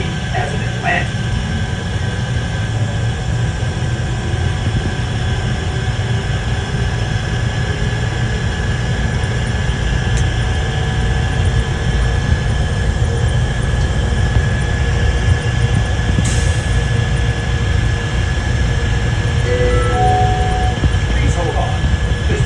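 An airport plane train shuttle runs between concourses with a steady low rumble and whine of the moving car, continuous and close throughout, with faint chimes and tones in the background.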